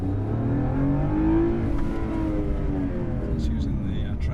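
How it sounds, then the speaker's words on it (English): A race car engine revs at a motorsport event as drivers warm their tyres before the start, a sustained droning note rising slightly in pitch and then holding, heard at middle distance while people talk over it. "that's just warming up the tyres before the start"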